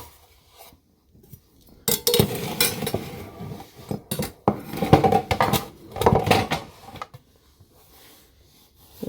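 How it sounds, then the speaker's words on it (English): Cinnamon rolls go into a pan amid loud clattering bursts of metal bakeware and utensils, clinking and knocking in irregular clusters between quiet pauses, close by with no talking. "And then just go ahead and put them in the pan."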